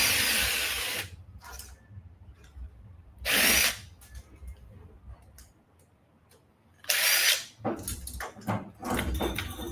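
Power drill backing screws out of a scrap electric motor with a copper stator: three loud, separate bursts of whirring drill between quieter gaps, with the last run stuttering on and off.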